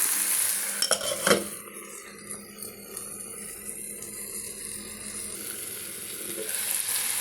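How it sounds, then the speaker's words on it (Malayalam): Amaranth greens (cheera) stir-fried in a clay pot, a steady close sizzle with a few clinks and scrapes of a utensil near the start, loud and continuous with no talk. "ഒരുവിധം നന്നായി വഴണ്ട് വന്നിട്ടുണ്ട് കുറച്ചുകൂടി നമ്മൾ വഴട്ടി പറ്റിക്കണം"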